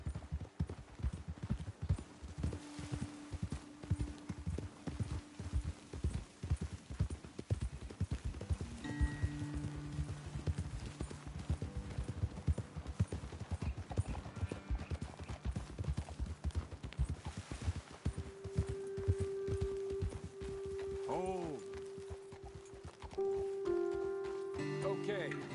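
Horse hooves clip-clopping at a steady walking pace on a trail in Red Dead Redemption 2, a continuous rhythmic patter joined later by tonal game sounds and music.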